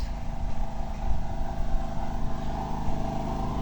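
A generator belonging to a family friend, run during a power outage, drones in a steady, loud, close hum with a constant low throb and no change in pitch.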